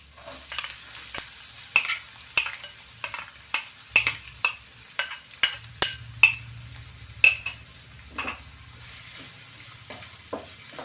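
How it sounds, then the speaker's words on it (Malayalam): Chopped onions, added after ginger and garlic, fry in hot oil in a pan for a mushroom masala, with a steady low sizzle broken by repeated sharp scrape-and-clink strokes of a utensil, close and fairly loud, without talk. "സവാള ഇട്ട് കൊടുക്കാം."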